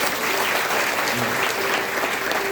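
Audience applause at a Bhagavat katha recitation, a dense steady burst of many hands clapping together, filling the whole moment evenly without a break.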